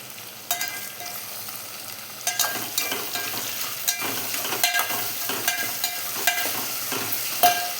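Onions and tomatoes sauté in a pan with a continuous sizzle, punctuated by repeated clanks and scrapes of a spoon stirring against the metal, moderately close and without talk.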